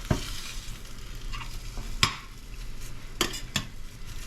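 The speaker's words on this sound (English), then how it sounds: "some of the moisture on the onions and peppers is sizzling right there" Onions and peppers in an omelette sizzle faintly in a pan, a soft steady frying hiss broken by a few sharp clicks of a utensil against the pan.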